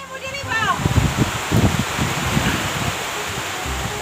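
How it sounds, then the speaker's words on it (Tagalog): Strong wind blowing around a bamboo-roofed nipa hut, a steady rushing hiss that swells and holds loud, with a brief high voice-like sound at the very start. "Lakas ang hangin."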